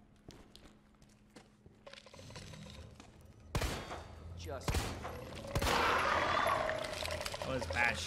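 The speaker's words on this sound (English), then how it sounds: "Oh, that was bad shooting." Gunfire in the Resident Evil 2 Remake game, sharp shots cracking out over a rising rumble of action, with a voice talking through it.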